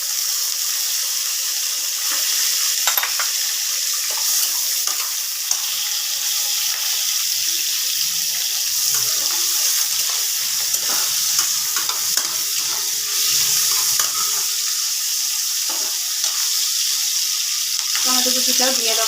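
Chopped onion fries in oil with spices for a thin Bengali chicken curry, giving a steady, bright sizzle with occasional stirring scrapes, close and continuous throughout, no talking heard.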